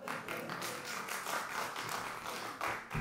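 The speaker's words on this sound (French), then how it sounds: "j'ai trouvé le truc pour me faire applaudir, on réessaye" Applause from members of a newly installed municipal council in Orsay, a steady patter of many hands clapping together, close and continuous throughout.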